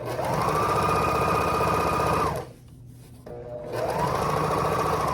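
A sewing machine stitches a hem along the straight edges of silk worship flags, running steadily and loudly, pausing briefly midway, then starting again.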